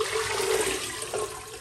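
About three liters of water gush into a five-liter stock pot, a loud, continuous splashing pour for under two seconds with no talk.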